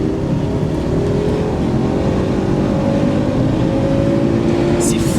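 A Fiat Bravo HGT with its five-cylinder engine accelerating from inside the cabin, a steady loud drone with a tone that climbs smoothly as revs rise.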